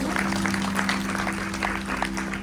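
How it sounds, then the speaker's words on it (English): Applause from devotees after speeches at a Ganesh Chaturthi gathering, a steady moderate patter with a low hum running beneath. "give a round of applause for those beautiful speeches"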